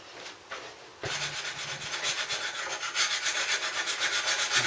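A tool grinds back paint on a Suzuki Bandit motorcycle part in a garage. A quieter scraping opens before a sudden louder, steady abrasive rasp that pulses in a rhythm for several seconds, with no voices.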